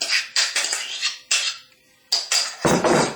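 Shredded crab being spooned into a cream cheese mixture in a bowl: a run of close clinks and scrapes of a utensil against the dish, with short pauses between, ending in a louder, fuller scraping burst.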